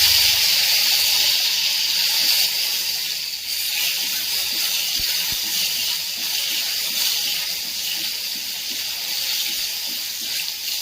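Cashews fry in ghee for Tamil-style paal payasam, giving a steady broadband hiss and sizzle that holds through the whole stretch, with faint clicks and pops underneath.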